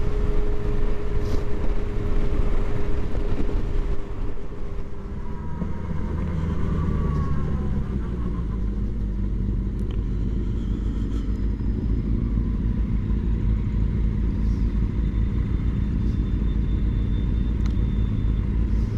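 Motorcycles, a Triumph 900 and a Kawasaki ZX9R, ride past outdoors. Loud engine rumble swells and fades as they go by, and a steady low drone carries on afterward.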